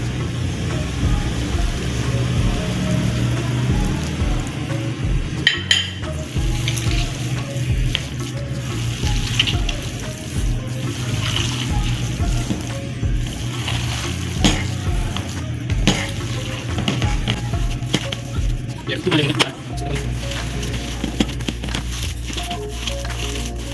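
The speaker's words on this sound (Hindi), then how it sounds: "आप लोगों की आवाज़ आ रही होगी कि अच्छे तरीके से मिक्स हो रहा है" Peshawari chapli kebab mixture is worked together with a little ghee, giving a continuous wet, squishing and scraping texture at close range with occasional sharper knocks.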